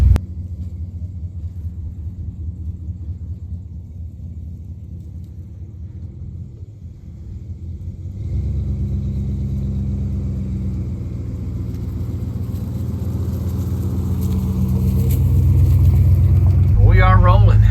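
A Dodge D100 truck engine warming up and idling, a deep steady rumble close by that grows louder and fuller over time, with brief rattles near the end.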